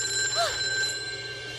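A telephone bell rings over a steady background hum, set in a cartoon Halloween program, with a short rising-falling electronic sweep; no one speaks.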